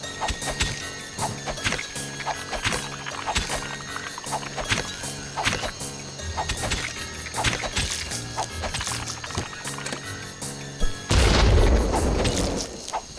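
Beast Claws melee weapon slicing through enemies in Daikatana, a series of light, thin slashing hits repeated at irregular intervals over game ambience, ending with a heavier, louder crash.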